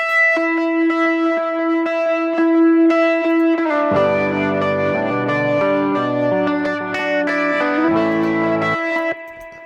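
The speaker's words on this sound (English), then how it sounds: "Extra guitar is coming in like here" Heavily effected electric guitar with chorus and echo, a sustained line joined midway by thicker layered chords, continuous and fairly loud with no talking.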